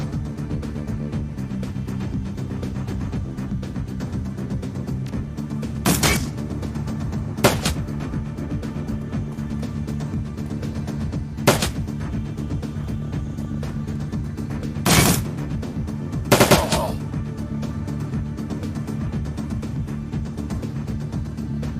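Turret gunfire in the Shadowrun: Dragonfall video game: several sharp, loud bursts spaced irregularly over a steady low electronic hum, some as single shots and some as short double bursts, with no talk.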